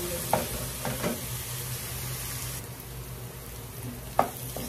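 Indian-style chicken fries in a pan while it is stirred. A continuous loud sizzle runs throughout, with a few sharper scraping knocks of the utensil, near and clear, and no talking.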